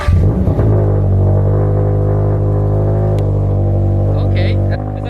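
2022 Subaru BRZ with a new catback exhaust on a cold start: the engine catches and settles into a loud, steady, deep idle drone that holds for several seconds before cutting off, with a brief voice near the start.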